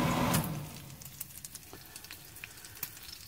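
Sausage frying in a pan, with a louder burst of sizzle at the start, then a quieter crackle and scattered small pops and spits close by, and no voices.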